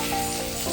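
Chopped onion sizzling in hot oil in a pan, cooked for a homemade macher muro lau ghonto fish-head and bottle gourd dish, a steady close hiss with no talk.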